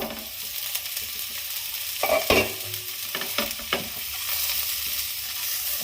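Oil sizzles steadily in a pan while a utensil scrapes and stirs through frying potatoes and pointed gourd, with a few louder clanks partway through.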